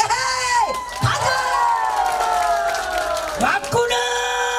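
A live crowd at a folk comedy and singing show applauds and cheers loudly, with shouts and whoops over a steady wash of clapping, and an amplified voice rising through it.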